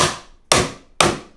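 A mallet known as the persuader strikes acoustic guitar parts in a garage workshop, three sharp evenly spaced knocks, each ringing off briefly before the next, close and alone.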